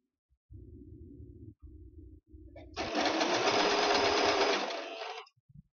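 A sewing machine stitches a skirt waistband, starting with slow, separated bursts of stitching, then running loud and steady at full speed for a few seconds before stopping, close up with no talking.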